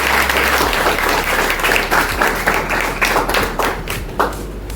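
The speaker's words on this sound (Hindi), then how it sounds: "तो ऐसे मसीहा के लिए एक बार जोरदार तालियां होनी चाहिए" A crowd claps steadily at an Ambedkar Jayanti speech event, loud, dense applause running throughout and thinning slightly toward the end.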